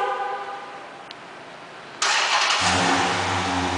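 A 2012 Dodge Challenger R/T engine fires up by remote start, a sudden loud crank at the midpoint settling into a steady, throaty V8 idle after a quiet lead-in.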